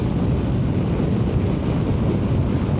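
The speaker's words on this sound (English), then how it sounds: "Wow, it's windy today." Strong wind buffets an outdoor microphone with steady low rumbling gusts, constant and close, with no speech.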